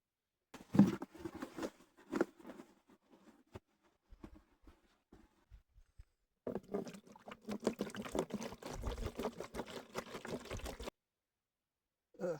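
Plain water rinsing a car outdoors: scattered splashes and trickles at first, then a longer steady pour of water running over the bodywork, close and fairly quiet.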